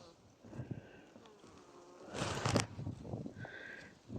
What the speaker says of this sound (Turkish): Çok yoğun bir arı var.